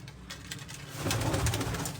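A female domestic pigeon coos softly and close by, low throaty murmurs that swell slightly toward the end with no talking.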